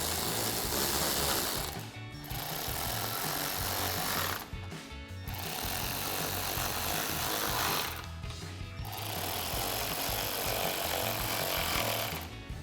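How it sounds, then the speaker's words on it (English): Ratchet fitted with a 10mm socket driving the upper grille screws on a 2014-2021 Toyota Tundra, loud close rapid clicking in three long bursts separated by brief pauses, no talking. "Now we can go ahead and reinstall our 4 10mm screws up top here, holding the top of our grille in place, using our 10mm socket on our ratchet."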